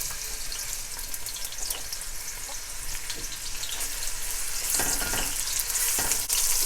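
Chopped onions frying in about four tablespoons of oil in a pan, a steady crackling sizzle that grows busier and louder, with occasional stirring scrapes.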